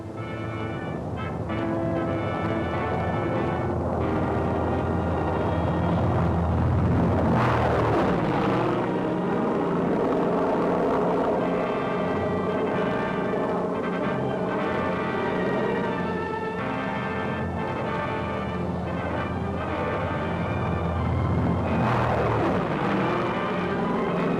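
Tow planes flying out to retrieve gliders by aerial pickup, a steady loud propeller-engine drone that swells as aircraft pass close twice, with engine pitch sweeping up and down, alone without talk.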